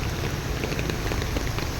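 Heavy rain from a typhoon pours down steadily amid street flooding, a dense, close, unbroken hiss with scattered drop patters and no other sounds.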